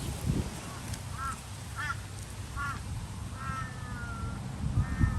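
Parrots call from orange trees in a citrus orchard: short, bright, repeated squawks spaced a second or so apart, some drawn out, heard at moderate distance over a steady low outdoor rumble with no talking.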